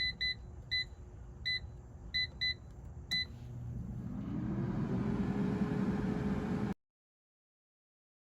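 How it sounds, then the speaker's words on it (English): An air fryer gives short, sharp electronic beeps as its temperature and timer are set, several quick presses in an uneven row, then a single beep and a low fan whir that swells up before the sound cuts off. "now I'm going to set the temperature to 400 degrees and I will set the time to 9 minutes"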